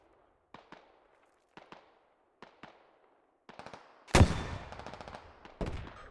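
A rocket launcher fires in the military video game Squad with one sudden, heavy, close blast and a rumbling tail. It follows several faint, evenly spaced distant shots, and another loud crack comes near the end.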